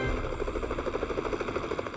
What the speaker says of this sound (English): The helicopter took the first patient to the trauma center, and we asked for a rapid turnaround of the helicopter to come retrieve the second patient.